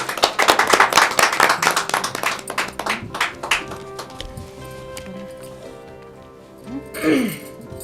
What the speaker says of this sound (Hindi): आपका स्वागत है, तालियों से स्वागत है।